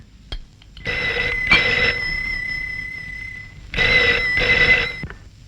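An electronic telephone rings in two long bursts separated by a pause, loud and close, with no talking.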